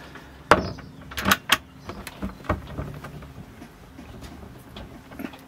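A series of sharp clicks and clunks as a motorhome door latch is worked and shut, a few distinct knocks spaced unevenly, close by in a quiet space.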